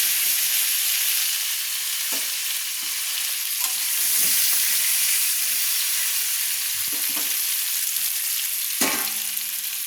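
Oil sizzles steadily as potatoes fry in a pan, with occasional soft scrapes and clinks of stirring throughout.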